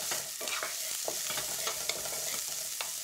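Onion, ginger, green chilli and garlic frying in a pan for chicken curry, a dense close sizzle broken by quick scraping stirs and light utensil taps, no voices.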